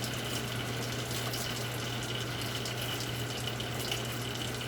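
Crystal violet stain poured onto a microscope slide during a Gram stain procedure, giving a steady watery trickle under a constant low hum, with no pauses and no talk.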